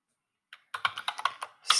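Quick burst of computer keyboard typing, about a dozen close, crisp keystrokes in an irregular rhythm, ending in a slightly heavier cluster, with no talking.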